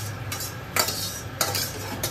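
Banana stem is stir-fried with black cumin and green chilli in a home kitchen pan, the spatula clinking and scraping against the metal in a few sharp strokes over a faint background hiss.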